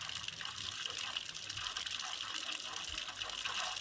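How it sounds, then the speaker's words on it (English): Water gushes steadily through an open valve on a digital drip irrigation timer, a constant close hiss with no break. "Right now the valve is open and water is getting disposed"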